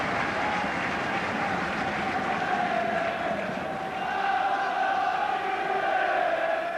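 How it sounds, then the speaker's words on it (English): Football crowd at Rotherham United versus Chelsea chanting and roaring steadily, a dense continuous swell of many voices filling the ground without a break. "Come on, you Reds, shout the crowd"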